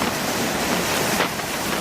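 Steady wind blows at Cape Tarkhankut on the Crimean Black Sea coast, a constant broadband rush mixed with surf, loud and close to the microphone with no pauses.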